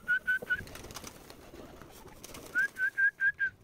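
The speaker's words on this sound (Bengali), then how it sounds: "ওই যে ওইখানে পাখি কিচির মিচির করতেছে, বিকাল টাইম ডাকাডাকি করতেছে।" Birds call in the afternoon by a pigeon coop, with a short run of three clear whistled notes, a quieter stretch, then five more evenly spaced notes, loud and close against faint outdoor background.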